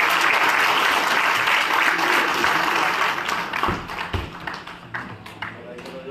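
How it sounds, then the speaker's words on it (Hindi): Crowd clapping at a children's encouragement event run by a memorial trust, welcoming a chief guest: loud, continuous applause that thins and grows patchy toward the end, with faint voices mixed in. "अगर तालियां बजती रहेंगी तो बहुत ज्यादा अच्छा हो जाएगा।"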